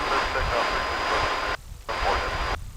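Jet airliner on a Cowboys charter flight taxiing out from the American hangar area at DFW International Airport, a steady broadband engine roar at moderate distance with a couple of brief dips, and people talking over it.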